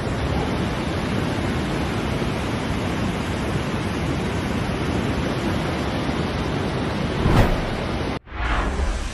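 The overflowing Benamargosa river in Malaga province flooding through a village, a loud unbroken roaring rush of water close by, with a brief whoosh near the end and a short cut before the roar resumes.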